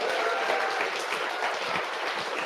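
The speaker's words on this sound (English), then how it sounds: "Let's give him a round of applause." An audience claps for a performer, a dense, steady round of applause that fills the room from start to finish, with no voices over it.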